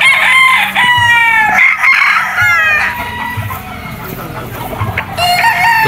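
A Tornado Hatch gamefowl rooster crows loudly and nearby, giving several drawn-out cock-a-doodle-doo calls with clucking between them on a farm.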